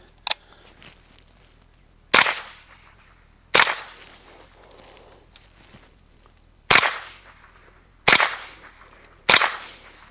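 Six sharp suppressed shots from a KR9 direct-blowback rifle fitted with a JMac Customs Banka 45K suppressor and firing supersonic ammo, spaced irregularly across the stretch, each a loud crack with a short decaying tail outdoors.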